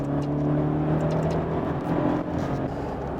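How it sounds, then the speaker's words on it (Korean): Maserati Ghibli hybrid in sport mode, its engine held at high revs with a steady, strong droning hum and a slight dip in level near the end, no voices present. "스포츠 모드에서 엔진 회전수를 끌어올리면 제법 다이나믹한 힘이 있는 엔진 사운드를 만나게 됩니다"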